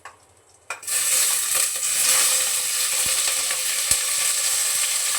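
After a brief quiet moment, onion and tomato drop into very hot oil and burst into a loud, dense, continuous sizzle that holds steady, with a couple of faint clicks from the pan.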